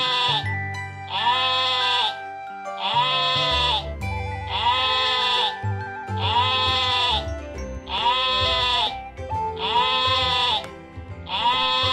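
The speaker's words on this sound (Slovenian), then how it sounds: "ovca." Sheep bleating over and over, eight loud, wavering calls in a regular rhythm, each about a second long and separated by short pauses, close and clear.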